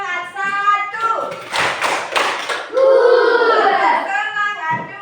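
A classroom of children claps a rhythmic chant, with a few sharp, evenly spaced claps set among children's voices chanting together and a teacher speaking nearby.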